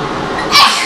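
A single sharp sneeze bursts out close by at a family's morning wake-up at home, brief and loud against a quiet room.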